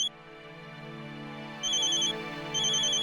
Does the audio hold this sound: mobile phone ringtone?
yes